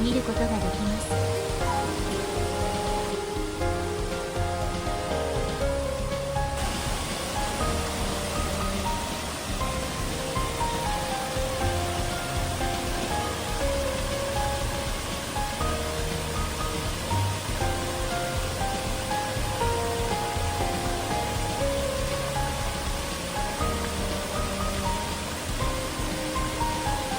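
A wide, curtain-like waterfall in Kumamoto or Oita, Kyushu, makes a loud, unbroken rushing roar of falling water that stays steady from start to finish.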